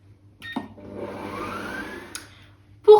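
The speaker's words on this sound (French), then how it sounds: "nous allons mettre la vitesse 1 et on va pétrir pendant 1 minute" A Cooking Chef stand mixer kneading dough at speed 1 gives a quiet, steady motor whir with a faintly rising tone, framed by sharp clicks and knocks near the start and at the end.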